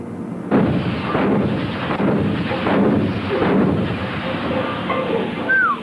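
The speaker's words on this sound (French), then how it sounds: "Loupé le tir de canon." Naval artillery cannon aboard the French ship Jeanne d'Arc, one sharp heavy boom followed by a long rolling rumble and booming echoes, with faint voices in the background.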